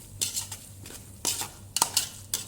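A spoon stirs slit green chillies into Malabar chicken biryani masala in a pot, giving several separate scraping, clinking strokes against the metal over a faint sizzle.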